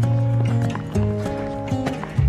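Hooves of a horse ridden bareback on a trail ride clop in a steady walking rhythm, close and clear, under a loud sustained tonal hum.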